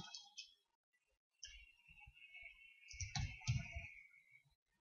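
Quiet computer keyboard clicks as a search is typed, a few short clusters of taps separated by pauses, close but faint.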